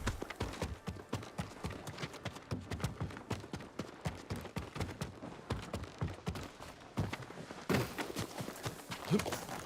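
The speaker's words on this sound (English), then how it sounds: "a good horse, Nobu" A horse named Nobu in the video game Ghost of Tsushima, its hooves clip-clopping in a fast, steady running rhythm close up throughout, with no talk over it.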